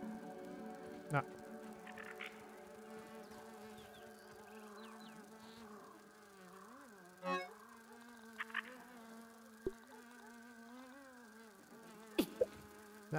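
Flies buzz steadily in the survival video game Grounded, a faint droning hum running through the whole stretch with a few soft clicks and blips from the game on top.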